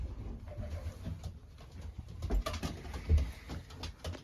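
Racing pigeons kept as breeding birds coo softly in a loft, with low throaty murmurs, rustling and light patter from wings and feet nearby.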